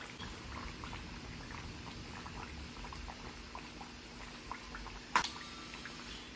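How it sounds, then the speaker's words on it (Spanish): Carnitas, chunks of pork, simmer in a pot with the peels of two oranges and cola, giving a steady, dense bubbling that holds through the clip, with one brief clink near the end. "ahí la vamos a dejar que siga hirviendo"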